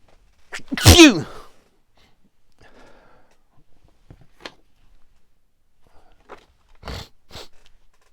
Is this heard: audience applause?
no